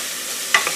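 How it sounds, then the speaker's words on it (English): Vegetables sauté in a thin layer of oil in a pan for a turkey dinner, a soft steady sizzle with a brief stirring scrape near the end. "I'm just going to saute that till the veggies get a little soft"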